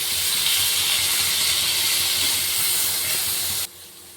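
Green chilies roast in hot oil for a dhaba-style matar paneer, a loud, steady sizzle and hiss that holds evenly and then drops away abruptly near the end.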